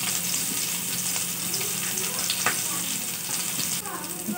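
Chopped onion tempering in hot oil in a pan for a pumpkin dish, a continuous close sizzle and crackle with occasional stirring scrapes.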